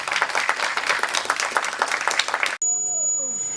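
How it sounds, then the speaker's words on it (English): A youth conference audience gives a brief round of applause that stops abruptly, after which a faint tone and quiet room sound remain. "Can we give a big round of applause to each other?"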